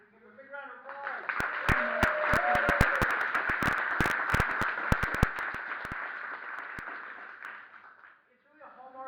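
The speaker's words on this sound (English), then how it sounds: "We give him a big round of applause." Scattered, sharp handclaps from a small audience greet a guest artist, spreading irregularly over several seconds while a voice continues talking over them.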